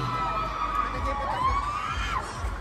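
A large crowd of fans cheers and shouts at a live event, a continuous wash of screams and whoops with one voice rising above the rest.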